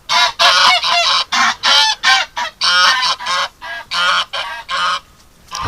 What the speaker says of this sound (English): The male goose is upset that I'm in here.